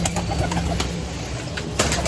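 Pigeons in a home loft coo faintly amid a steady ambient hum, with a few brief wing flutters and soft calls scattered through the short stretch.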